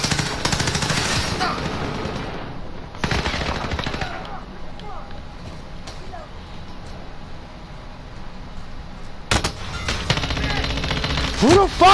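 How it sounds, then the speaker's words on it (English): Call of Duty Warzone team deathmatch gunfire rattles in loud automatic bursts at the start and end, with scattered single shots and a quieter stretch between. "Who the fuck is shooting me?"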